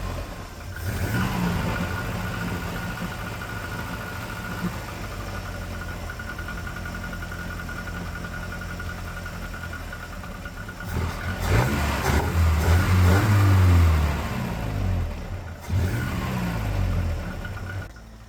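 A two-stroke engine fitted with a cheap eBay carburettor runs with bad piston slack, idling unevenly before revving up loudly in a couple of bursts, alone and close by.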